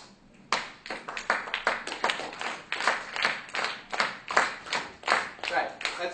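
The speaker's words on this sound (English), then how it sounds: "On the other hand, you clap double time." Hands clap in quick double time, a steady brisk rhythm of sharp claps that starts after a brief quiet moment and stays loud and near, with faint speech under it.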